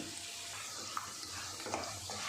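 Tea-stall style bonda frying in a pan of hot oil, a soft continuous sizzle and bubbling at low volume with a couple of faint pops, no talking over it.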